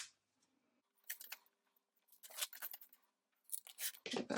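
Scissors snip through paper for a handmade envelope in a quiet room, with a few short separate bursts of cutting, the last one loudest and close up.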